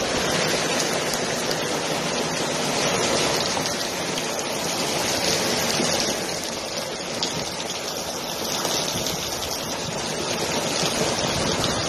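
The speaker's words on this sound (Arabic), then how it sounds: "الشيخ محمد، الفيضانات تقتلع الكيان." Steady, loud rushing floodwater fills the whole stretch, a dense broadband roar like a torrent or heavy flow, with no voices, during severe flooding in Syria.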